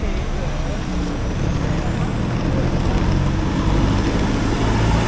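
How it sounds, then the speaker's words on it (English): City bus pulling away at a stop in Mascot, Sydney, a loud, steady engine rumble with broadband road noise close by, a person talking over it. "So we just got off the bus."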